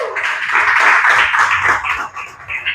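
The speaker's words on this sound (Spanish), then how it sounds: "Dale un aplauso al Señor" Church congregation claps and cheers during a worship service, a loud, dense wash of applause with a few voices mixed in that holds steady for several seconds.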